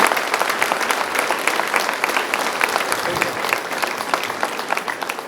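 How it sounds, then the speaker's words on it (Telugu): An audience applauds at an anniversary celebration at Arogyamatha church in Khairatabad, Hyderabad, with loud, dense clapping that continues without a break. "మీ అందరి చప్పట్లతో"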